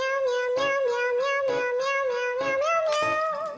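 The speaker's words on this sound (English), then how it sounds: "They create covers of famous songs, featuring a cat playing and singing along like this." A cartoon cat sings a song cover in sustained melodic meows over a rhythmic backing with regular percussive beats, the voice gliding between pitches and held loud and up front.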